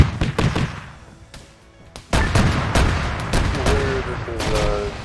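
Video game gunfire, a few sharp shots early, a lull, then dense loud bursts of rapid firing and impacts close by.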